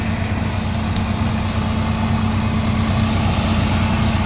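A Swaraj 963 FE tractor runs a Lemken 18-blade mulcher at 1100 rpm with no load, giving a steady, loud, low engine drone that holds evenly from start to finish with no talk.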